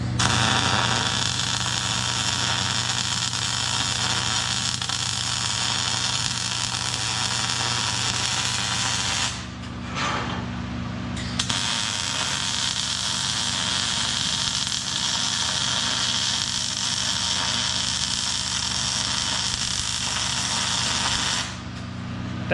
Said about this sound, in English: and then do our welds.